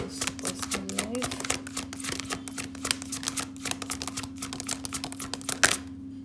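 Tarot cards shuffled and drawn for a zodiac reading, giving a steady run of crisp papery flicks and snaps across the whole stretch, with a faint voice briefly audible near the start.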